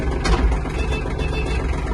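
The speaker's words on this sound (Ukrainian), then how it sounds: "Запалення, свіча нагрілась, потухла, заводиться трактор легко" A Kubota GL-260 mini tractor's small diesel engine running at a steady idle just after starting, a low, even chugging throb close by with no talking over it.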